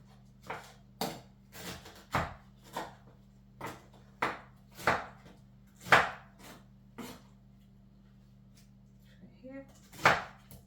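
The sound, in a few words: knife cutting fruit into chunks in a bowl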